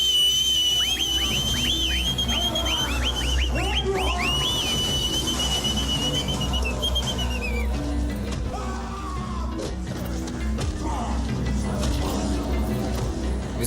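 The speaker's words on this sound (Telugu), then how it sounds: "మీరేమనుకోనంటే ప్లీజ్ ఒక్కసారి విజిలేసుకోవచ్చా?" A person gives a run of short, high warbling whistles near the start, over a loud crowd of yelling and cheering voices in a Telugu film scene.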